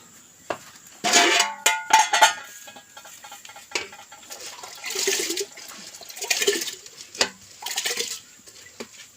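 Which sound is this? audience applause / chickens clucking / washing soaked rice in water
washing soaked rice in water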